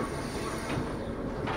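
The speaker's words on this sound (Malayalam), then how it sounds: "ഇതാണ് ഝാൻസി റെയിൽവേ സ്റ്റേഷൻ." A train at Jhansi railway station on a foggy winter day gives a soft, moderately distant rumble with a steady hiss and faint rolling wagon noise, quiet throughout.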